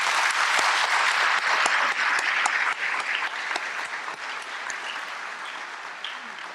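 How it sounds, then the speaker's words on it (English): At an aerospace gala award ceremony, a large audience breaks into loud, dense applause with a few sharp individual claps, gradually thinning and fading over several seconds. "Please join me for one final round of applause for all of our Premier Award winners."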